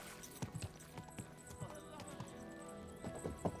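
Hooves clip-clop in an uneven trot under faint background music, with a soft whinny-like murmur of activity around them.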